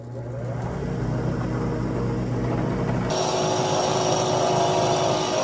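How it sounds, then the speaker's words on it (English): A drill press boring a 3/4-inch hole, with a steady motor whine and grinding hum, close and loud, its pitch shifting partway through as the bit bites in. "I got the drill press set up here. I got to drill a 3/4 inch."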